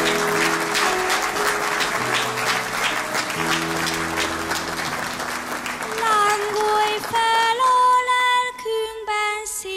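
An audience applauds Dr. Máriás, the photographer, at a stage show: steady, dense clapping runs loud throughout, with a sustained tonal sound entering over it toward the end.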